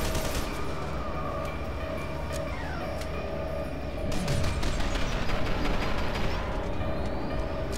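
Gunfire in the first-person shooter F.E.A.R. 2, sharp repeated shots cutting through a dense, loud wash of game noise and low rumble, with a short burst of rapid fire midway through.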